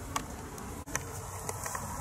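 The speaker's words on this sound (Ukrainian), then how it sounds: "Я не скажу, що масштабний обліт, але бджола літає." Honey bees flying around their hives at an apiary on a warm morning, a soft continuous buzzing drone with occasional louder passes of individual bees close by.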